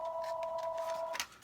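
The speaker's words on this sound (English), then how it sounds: "Sorry about that phone call in the background." A telephone gives a steady electronic tone in the background that cuts off abruptly, followed by a brief click, faint and alone with no talking.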